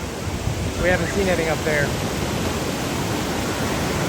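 Ocean waves wash onto the beach at Wildwood as a steady broadband rush with wind noise, while a voice speaks briefly over it.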